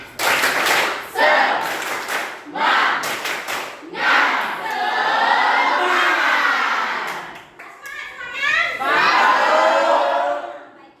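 Schoolchildren in a classroom perform the tepuk semangat clapping chant, bursts of rhythmic group clapping alternating with loud chanted shouts from the class, repeated in several rounds.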